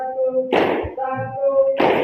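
Hand claps in a rhythmic counting pattern, two bursts of sharp claps over a steady musical tone, close and fairly loud, with no talking.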